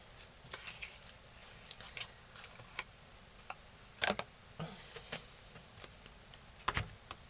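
Tarot cards being shuffled and drawn produce faint, close riffles, soft slaps and light taps in scattered bursts over a quiet background.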